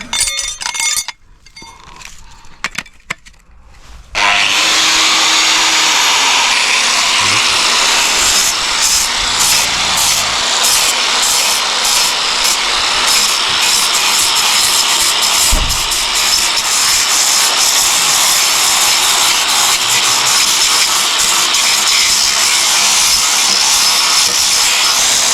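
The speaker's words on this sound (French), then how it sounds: "on va faire un exemple de ponçage." Bodywork on a Renault Rodeo is sanded: after a few seconds of quiet scraping, a constant, harsh abrasive hiss starts and runs on loudly to the end.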